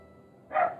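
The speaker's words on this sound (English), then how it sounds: "that's my dog." A single short, sharp dog bark indoors, fairly close and loud, against quiet background hiss.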